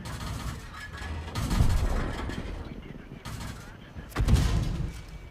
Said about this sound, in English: So I'm getting hit by the tank destroyer there.